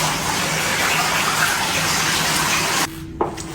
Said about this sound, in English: He's preparing me a bath.